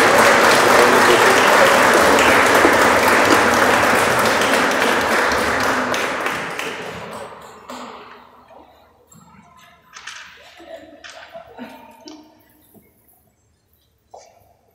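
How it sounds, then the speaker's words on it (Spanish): Dense, loud applause from a wedding congregation in a church fills the first several seconds, then thins to scattered claps and faint movement before dying away. "Denles un aplauso, anímenlos."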